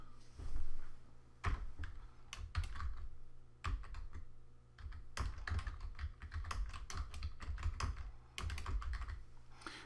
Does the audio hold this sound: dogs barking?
no